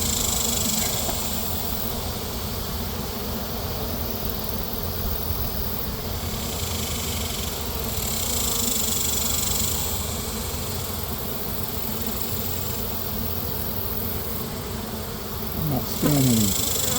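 Honey bees buzzing around neglected hives on a remote property, a steady dense drone from many insects throughout with a brief sharper disturbance near the end.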